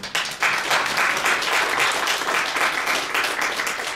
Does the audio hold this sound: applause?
yes